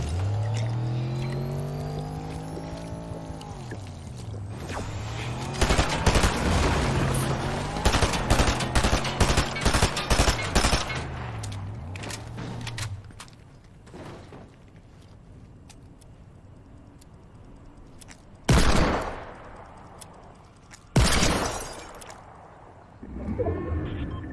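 SMG gunfire in Fortnite Battle Royale sprayed at an opponent in a car, rapid bursts of shots over a droning engine, then a pause before two more sharp loud bursts, with no talk.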